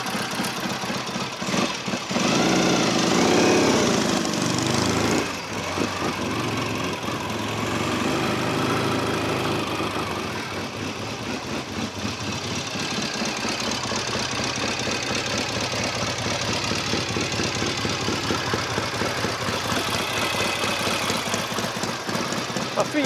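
A classic Norton Commando motorcycle engine runs steadily for a long stretch while ridden, a loud, close, throbbing rumble with shifts in pitch as it pulls away and settles.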